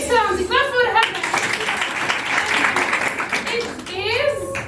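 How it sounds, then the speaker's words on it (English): A burst of clapping from a small eleventh-grade class fills the classroom, with students' voices talking just before and after. "Clap for her."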